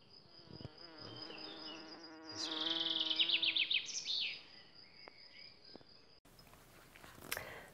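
A bee buzzing close by, a droning hum that swells louder and wavers for a couple of seconds before fading, with soft background noise around it and no talking.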